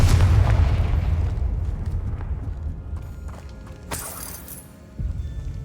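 In the Hogwarts Legacy video game, the Confringo blasting spell makes a heavy booming explosion with a deep rumble that slowly fades, followed by a sharp crackling burst and another low thud.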